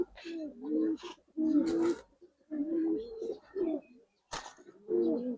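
Giribaz and coloured pigeons coo in low, rolling phrases, repeating in several bursts close by, with people talking at a market stall between them.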